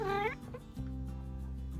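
Pet cat Katie gives a drawn-out, rising and falling meow up close, then a lower, sustained caterwauling cry that carries on steadily to the end.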